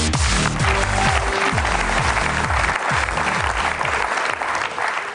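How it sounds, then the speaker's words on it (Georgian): A studio audience on a television talent show applauds to welcome a band, a dense, loud burst of clapping that fills the whole moment, with faint background voices. "ტაში მიესალმოთ."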